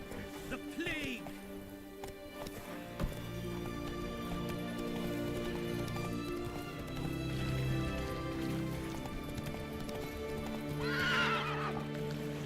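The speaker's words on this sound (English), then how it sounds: "Come on, Roach." Horse in The Witcher 3 whinnying twice, near and loud, over steady game music and a constant clip-clop of hooves throughout.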